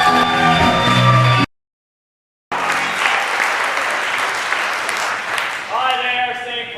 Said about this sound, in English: make a big round of applause for the Theater of Public Policy